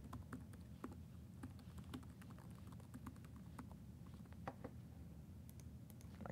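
Steady, quiet typing on a computer keyboard, with rapid irregular key clicks running continuously over a low background hum, close to the microphone and with no talking.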